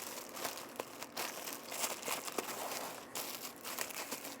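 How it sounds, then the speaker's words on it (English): Crinkling poly bag material and tape rustle close by as a shipping box is taped shut, with irregular crackles and tearing sounds throughout and no talk. "And I'm just gonna tape it up really good"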